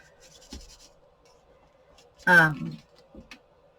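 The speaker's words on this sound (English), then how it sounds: "tool, the bone folder, and just give everything a good smush." A bone folder rubs and presses down on folded paper for a Christmas triple askew pocket card with tucks, giving soft, close scraping strokes with a brief voice-like sound in the middle.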